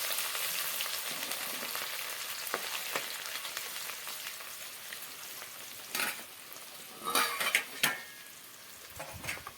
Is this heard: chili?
yes